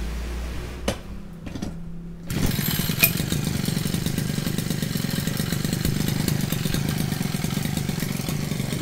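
A small motor engine mounted on a fishing kayak starts after a few brief knocks and then runs at a steady, close, buzzing hum for the rest of the time, with no talk over it.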